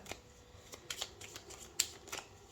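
Tarot cards are shuffled with soft, quiet riffling clicks and a few sharper flicks in an uneven rhythm, heard close and alone.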